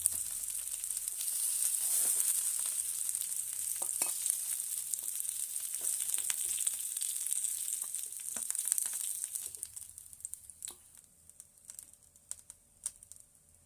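Fish fries in hot oil with a bright, crackling sizzle up close, steady for several seconds before thinning into scattered pops and quiet ticks.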